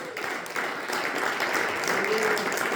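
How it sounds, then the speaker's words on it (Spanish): A church congregation claps together at a Spanish-language sermon, a steady moderate wash of applause filling the space, with a faint voice or tone rising briefly near the end. "Denle un aplauso fuerte al Hijo."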